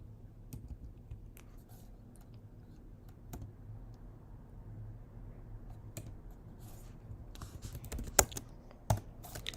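Fingers type on a computer keyboard, quiet irregular key taps building into a few sharper clacks near the end, with no talking.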